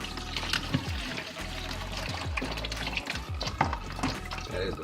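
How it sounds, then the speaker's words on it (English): Water drains and trickles out of a toilet during a flush valve replacement, a gurgling splashing flow with scattered drips and small pours, close and fairly quiet. "That is the water from the rest of the water from the toilet."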